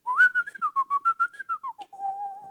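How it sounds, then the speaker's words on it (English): One person whistles on the inhale, close and alone: a wavering melodic phrase of short, quickly stepped notes that settles into a steady held tone. "You can actually inhale whistle"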